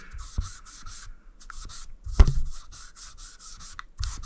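A cloth wipes excess Dunlop lemon oil off the body of a Temu Chibson Les Paul Custom Randy Rhoads guitar, giving a series of soft, close rubbing strokes with a brief knock partway through, and no talking.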